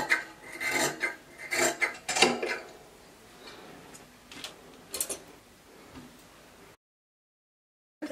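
Scissors cut through two layers of dress fabric together in close, rasping snips that come in uneven bursts. The cutting trails off into quieter strokes and then stops, leaving silence.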